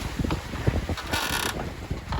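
An E-Wincher 2 electric winch reeling in sail line on a sailing yacht in windy open water, a short burst of whirring, creaking mechanism noise over wind and boat sounds.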